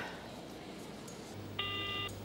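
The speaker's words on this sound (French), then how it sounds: "Veuillez laisser un message après le bip sonore." A single electronic voicemail beep holds steady for about half a second near the end, after a faint hum and quiet background.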